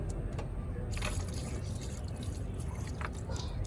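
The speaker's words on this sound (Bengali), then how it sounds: "এর জন্য আমি আবার ড্রেন নাটটা একটু লুজ করে একটু ওয়াটার ড্রেন করে নিচ্ছি।" Coolant water drains from a car radiator through a loosened drain nut, a steady close splashing and trickling pour that runs without pause.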